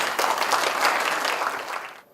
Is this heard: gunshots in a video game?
no